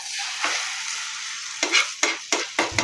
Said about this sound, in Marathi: आता आपण हे शेकलेली आता चपाती आपण हे असं पलटून घेऊया।